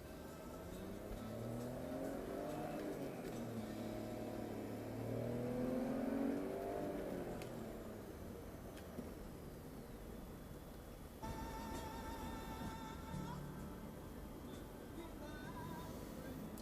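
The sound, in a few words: BMW X5 driving and accelerating at high speed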